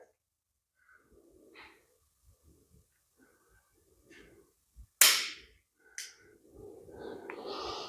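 A few sharp pistol shots from a Ruger LCP .380 crack out at close range, one loud report followed by a second fainter one, amid quiet breathing and muffled movement, with wind noise rising afterward.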